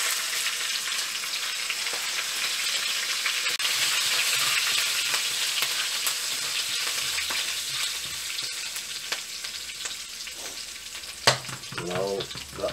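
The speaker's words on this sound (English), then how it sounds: "now I'll add the ginger and green chilies" Ginger and green chilies sizzle steadily in hot oil in a frying pan, a broad, loud crackling hiss that runs the whole time, with a few clinks and stirring scrapes near the end.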